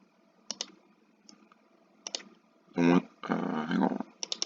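A computer mouse clicks a few times, crisp and close, while someone selects the gradient tool in image-editing software; voices speak briefly near the end.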